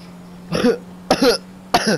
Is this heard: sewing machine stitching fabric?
no